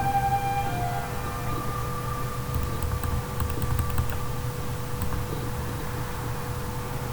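Steady clicking of computer keys under a constant background hum, with a few faint high tones drifting through.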